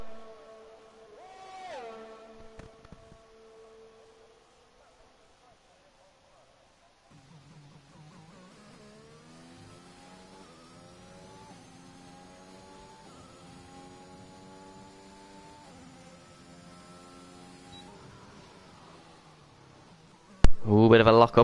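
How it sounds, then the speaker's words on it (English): A Mercedes Formula 1 car in the F1 2021 racing game, on a qualifying lap down the main straight at Bahrain, sends out a high, whining engine note that climbs repeatedly through the gears for about thirteen seconds after a near-silent start, ending in a sudden loud burst. "Let's have a listen to the Mercedes as he's heading down the main straight"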